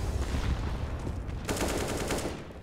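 Rapid bursts of AK rifle fire in a Counter-Strike match on the Inferno map, a dense crackling volley that swells sharply halfway through and stays loud to the end.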